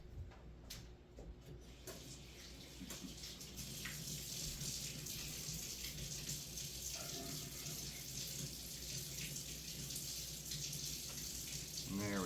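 Water runs from a tap in a steady, faint rush, with small splashes and handling sounds as hands move under it.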